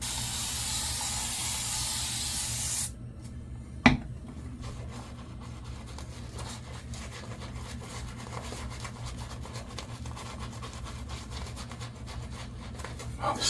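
Handheld water sprayer misting a surface, a brief loud hiss for about three seconds followed by a sharp click, then quiet rubbing and faint handling noise.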